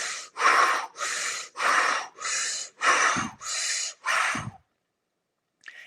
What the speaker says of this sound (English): So when I breathe, I don't know if you can hear it, but it looks or sounds like this.